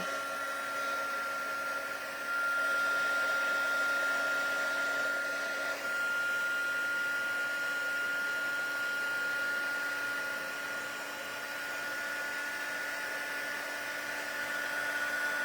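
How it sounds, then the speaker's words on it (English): A heat embossing tool blows hot air onto cardstock with a steady, whining hum that holds level throughout, close and moderately loud. "I'm going to turn on the heat tool, and we're going to heat this up"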